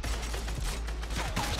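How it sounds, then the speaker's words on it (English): Rapid gunfire in Fortnite raking a building, dense bursts of shots close and loud across the whole stretch over a low rumble. "Watch out, I'm gonna shoot all this building down."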